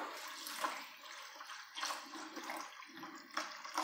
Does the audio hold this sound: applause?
no